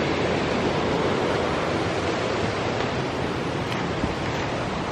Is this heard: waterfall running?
yes